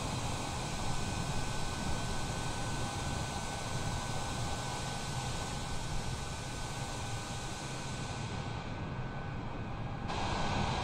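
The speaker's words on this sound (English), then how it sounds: "this is the Boeing 787-10" Steady broadband roar of a Boeing 787-10 airliner at Miami airport, a constant airy whoosh with a faint high whine, holding level for the whole stretch and dipping briefly near the end.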